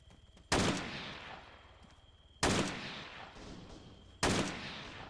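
Gunfire aimed at a vehicle in the video game Arma 3, three loud sharp shots about two seconds apart, each trailing into a long echoing decay.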